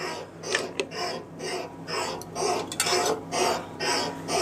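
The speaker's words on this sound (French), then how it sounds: "juste redescendre la farine, la pâte qui se place sur les bords pour récupérer un maximum de pâte" Flour and dough are scraped down from the edges of a Brabender farinograph mixing bowl, a series of close, soft rasping strokes over a low mechanical hum.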